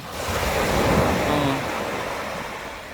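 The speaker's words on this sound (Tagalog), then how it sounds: "So banayad ang alon." Gentle surf rolls and washes in at a sandbar in Motueka, a soft continuous rush of water that swells and then eases, with some wind buffeting the microphone.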